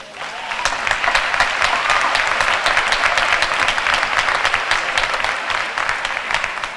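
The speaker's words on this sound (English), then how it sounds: "I want to ask the entire student body to join me in giving a round of applause to the two biggest parts of most of our lives, God and family" A graduation audience at a high school commencement ceremony bursts into sustained, dense applause, many hands clapping steadily and loudly for the whole stretch with no talk over it.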